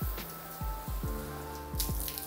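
Water splashed over a camping tent's fly, a few distinct close drips and plops patter on the fabric in an uneven rhythm.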